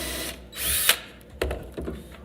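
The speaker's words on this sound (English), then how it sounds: "I don't have to drill super deep because I'm only trying to get to that shoulder." A power drill boring a peg hole into a wooden rack, with a loud whining burst of drilling in the middle, then shorter bites and clunks as the bit works toward the shoulder of the hole.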